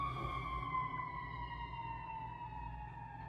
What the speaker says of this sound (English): excuse the siren in the back